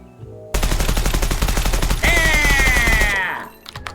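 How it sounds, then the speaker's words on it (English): Full-auto magazine dump from a gun in Gunsmith Simulator, a rapid unbroken burst of loud shots lasting about three seconds, shifting in tone midway and cutting off abruptly with a brief tail. "You want the full auto mag dump."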